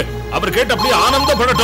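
Telephone ringing in a Tamil TV serial scene, a bell-like ring sounding under and between a person speaking, moderately loud throughout.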